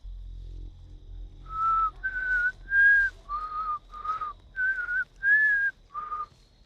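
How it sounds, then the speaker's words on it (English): A person whistles a tune in a quiet space, a string of clear sustained notes rising and falling in short phrases, fairly close and alone with no talking. "Someone's whistling."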